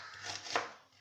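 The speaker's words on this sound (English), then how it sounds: "Chopping up the onions" Raw onions being chopped with a knife on a cutting board for tamarind sauce, a quick series of soft scraping cuts building to one sharper chop, fairly quiet and close, with no voices.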